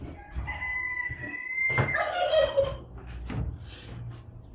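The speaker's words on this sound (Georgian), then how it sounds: "იქ 24 მამალი რო ყვირის." Several roosters crow outdoors in a rural Georgian morning yard, with overlapping calls near and farther off, and a turkey gobbling amid the chorus; no one speaks.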